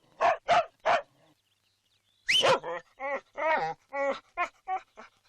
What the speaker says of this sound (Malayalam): നായ്ക്ക് ആളെ പരിചയമില്ലാത്തതുകൊണ്ടാണ് ഈ കുര.